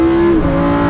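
Lamborghini Huracan V10 engine snapping through a double downshift, loud and close, its steady high tone dropping sharply in pitch midway with blips of revs, no talking over it.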